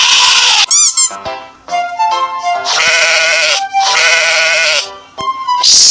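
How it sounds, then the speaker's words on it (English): Sheep bleating loudly in several repeated wavering calls, close and alone, broken by brief squeaky sounds. "Sheep."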